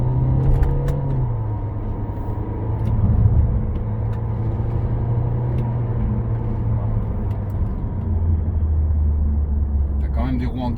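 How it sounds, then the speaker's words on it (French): Nissan Qashqai 1.6 dCi 130 with automatic gearbox accelerating on the road, a steady low engine drone rising in pitch beneath continuous speech from inside the cabin. "Voilà, tu vois, là j'accélère."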